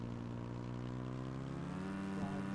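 A vehicle motor hums in the battle royale game PUBG Mobile, a steady, loud, droning engine tone that holds constant throughout, with a slight pitch shift near the end and no voices over it.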